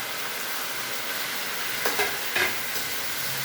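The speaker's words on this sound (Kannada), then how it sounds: "ಇವಾಗ ಅಲಸಂದೆ ಕಾಳು ಹಾಕ್ತೀನಿ ನೋಡಿ" Black-eyed peas tipped into a pan with turmeric, giving a steady low sizzle with a couple of soft clatters and scrapes as they land, close and fairly quiet, no voices.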